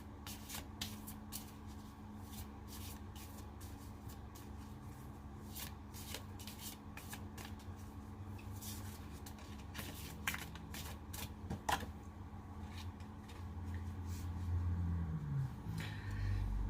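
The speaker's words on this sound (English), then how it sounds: "What I'm going to do now is I'm going to pull a card for you guys." A deck of cards is shuffled over and over in a steady, close riffling patter, soft rapid flicks running continuously with occasional sharper snaps.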